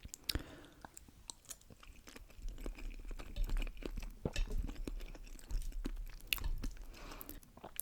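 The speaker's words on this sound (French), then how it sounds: "je prends un peu de pâte quand même parce qu'on est dans une dégustation" Close, quiet mouth sounds of someone chewing pasta during an eating tasting, with soft wet clicks and smacks coming irregularly over a low background hum.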